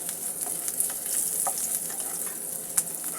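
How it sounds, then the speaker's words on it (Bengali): Onions fry in oil with dried and green chilies, giving a close, crackling sizzle with scattered pops and a few stirring scrapes over a steady hiss. "শুকনো মরিচ আমি পুরোটাই পেঁয়াজের সঙ্গে ভেজে নিচ্ছি"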